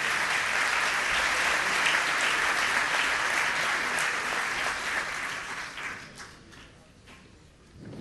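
Audience applause at a French business debate event with the CEO of AXA, steady dense clapping that fills the hall for about six seconds before thinning out and fading.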